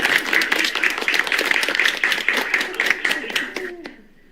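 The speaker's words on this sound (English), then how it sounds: "Bravo. Clap, clap, clap." A small group clapping in a classroom after praise from a teacher, steady close applause for about four seconds that stops abruptly, with voices mixed in.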